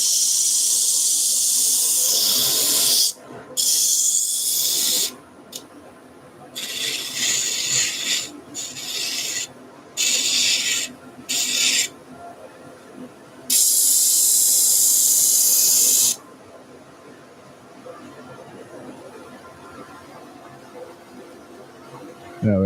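A small sanding disc spins at about 1,000 rpm on a wood lathe, pressed against a turned wooden bauble in bursts of loud hissing rasp separated by quieter gaps with a dust extractor droning underneath.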